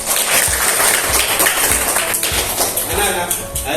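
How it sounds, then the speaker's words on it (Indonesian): Classroom of students clapping together in a dense, steady burst of applause, close and loud throughout, with voices mixed in. "Tepuk tangan dulu ya buat kita semuanya."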